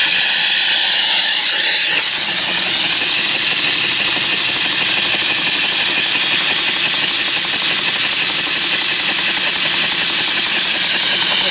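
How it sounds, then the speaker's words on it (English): A steam engine running on 75 psi boiler pressure gives a loud, continuous hiss and rushing drone that starts in earnest after a couple of seconds and holds steady throughout. "Got 75 pounds of boiler pressure. I think the engine might take off."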